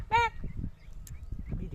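A single loud honking quack from a duck on water, close by and brief, followed by quiet low rumble and faint background noise.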